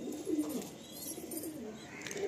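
A restless Madrasi pigeon in a loft coos in short soft bursts, close but faint, with no talking.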